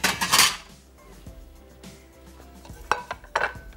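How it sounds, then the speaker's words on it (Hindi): Cumin seeds being roasted in a pan, heard as loud metallic clatters and scrapes of a spoon on the pan at the start and again near the end, with quieter stirring between and no talking. "यहाँ एक चाय की चमची के बराबर ज़ीरा थोड़ा सा हमने भून लेना है"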